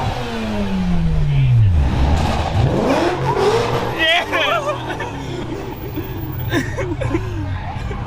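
A car engine revs in a street two-step battle, its pitch sweeping up and down in bursts close by while a crowd chatters and laughs around it.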